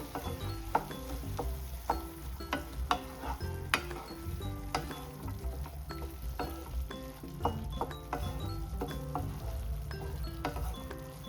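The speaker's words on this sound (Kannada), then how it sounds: "ನೋಡಿ ಚೆನ್ನಾಗಿ ಬೆಂದಿದೆ. ಮಿಕ್ಸ್ ಮಾಡ್ಕೊಳ್ಳೋಣ." Cooked snake gourd kootu with lentils being stirred in a pan, a steady scraping and clinking of a spoon against metal under a faint sizzle, repeated strokes throughout with no talking.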